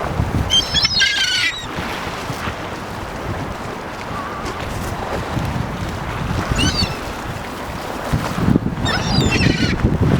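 Seagulls squawking while being fed by people at the waterfront in Belém, Lisbon, with a few harsh calls breaking over loud, steady wind and background noise.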